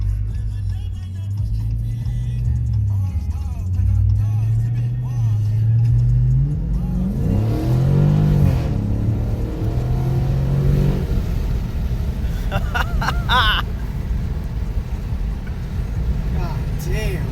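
A 2019 Dodge Challenger Scat Pack Widebody accelerates hard out of a corner, its loud engine note rising and swelling in pitch over several seconds, with a voice speaking over the engine at times.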